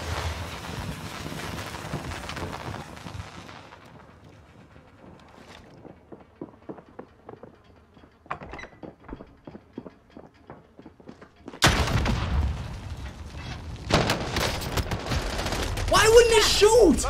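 Gunfire from the video game Warzone: scattered quiet shots and footsteps give way to loud, sharp bursts near the end, with a voice talking over the action.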